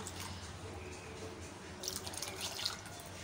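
A gram flour and water mixture pours into an onion-tomato masala in a pan, a steady wet splashing and gurgle close by, growing slightly louder midway.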